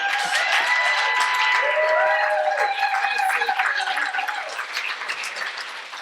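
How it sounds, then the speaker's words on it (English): A comedy show crowd claps loudly and steadily, with some whistles and cheers mixed in, then the applause gradually thins out toward the end. "Extra round of applause"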